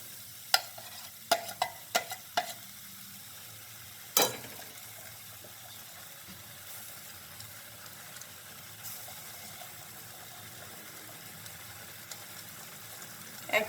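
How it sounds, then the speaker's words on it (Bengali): A spatula scrapes and stirs green pea filling drying out in a pan, several sharp scrapes early and one loud clank, then a soft steady sauté hiss with occasional scrapes. "এটাকে শুকনো করে নেবো, যতক্ষণ না শুকনো হচ্ছে এরকম করে আমাকে হাত চালিয়ে যেতে হবে।"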